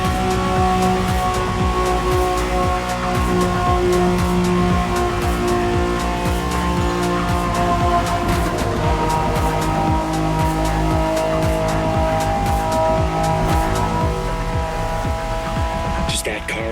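In the racing game The Crew Motor Fest, a car drives flat out along a speedway, its engine holding a loud, steady high-revving roar with brief tire squeal throughout.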